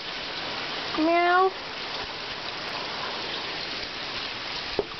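Steady rain falls outside during a storm, a constant hiss of drops on surfaces heard close throughout, with a short cat meow and a faint click near the end.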